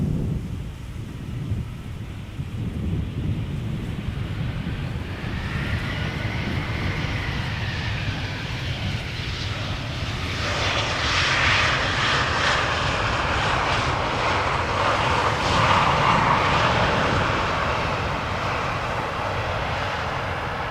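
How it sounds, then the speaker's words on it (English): A TAP Air Portugal Airbus A319 jet arriving from Lisbon at Amsterdam Schiphol Airport gives a loud, continuous engine roar that swells midway and holds steady, with no voices. "This is TAP Air Portugal, arriving from Lisbon, A319"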